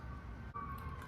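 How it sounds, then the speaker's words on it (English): A steady emergency vehicle siren wails through continuous city background noise, holding fairly constant with no one speaking. "Sorry for the sirens"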